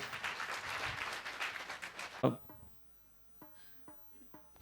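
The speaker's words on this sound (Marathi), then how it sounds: "आपण टाळ्यांचा आवाज केल्याशिवाय ते येणार नाहीत असं मला बोललेत." An audience at a retirement function in a Sayaji Hotel hall claps in a dense burst of applause lasting about two seconds, then it stops abruptly, leaving a quiet room with a few faint knocks.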